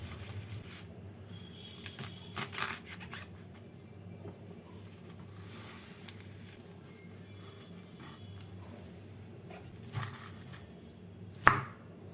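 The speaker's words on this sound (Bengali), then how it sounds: "এবার ধুয়ে নেওয়া শাকগুলোকে কেটে নিচ্ছি" Washed radish greens chopped on a board with a knife, a scattered series of soft taps and a few sharper cuts, near and fairly quiet, with faint background noise and no talk.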